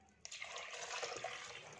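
Water is poured into hand-whipped cream while making ghee without a mixer or blender: a steady splashing, rushing pour that starts abruptly and runs continuously at close range, with no talking.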